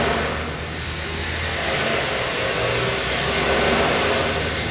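A 2.5 liter Ford natural gas engine runs inside a mechanical facility, giving off a steady, fairly loud, broadband mechanical roar with slight swells and no talking.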